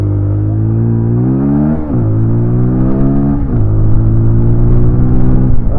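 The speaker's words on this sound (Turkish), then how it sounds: "Şimdi devre arttırıyorum" A 2024 TVS Apache RTR 200 motorcycle engine revs up close and loud, its pitch climbing in repeated rising sweeps, dropping back between throttle blips, with a steady rumbling idle underneath.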